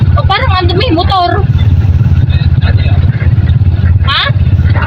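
A motorcycle engine drones steadily close by, a low continuous rumble under people talking outdoors.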